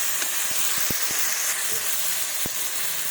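Spices going into a hot pan for a rohu fish curry with eggplant, potato and tomato, giving a steady loud hiss and sizzle with scattered soft clicks and knocks of utensils against the pan.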